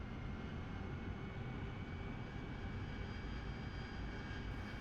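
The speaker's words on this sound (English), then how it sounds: "you may have heard that the RPMs went up" An AV-8B Harrier's jet engine roars steadily in a DCS World flight simulation, a dense continuous whine and rumble that holds loud throughout with a faint rise in pitch as RPM climbs.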